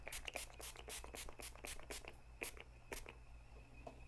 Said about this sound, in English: So I'm going to give a light spray and just